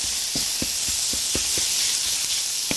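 Ground meat and onion frying in olive oil in a pan, a steady loud sizzle with scattered soft knocks and scrapes of stirring close by.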